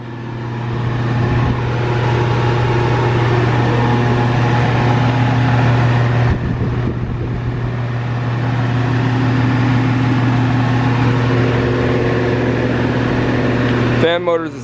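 Rheem Classic central air conditioner (2016/17 unit) fan motor running, a loud steady drone with a strong low hum throughout, briefly wavering midway, with a short burst of other noise at the very end.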